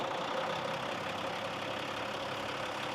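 A CAT C13 diesel engine with 2,200 hours powers a manure dragline booster pump, running as a steady, even drone close by with no talking.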